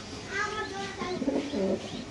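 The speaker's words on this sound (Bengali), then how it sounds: "নর্মাদি দুইটাই খুব স্ট্রং কবুতর" A pair of strong pigeons coo nearby, making soft, low, rolling murmurs that repeat over a couple of seconds with a faint voice in the background.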